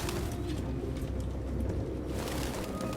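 Pigeons or doves coo softly over a steady background hum inside Detroit: Become Human, a low murmuring call that carries through the whole stretch without any talk.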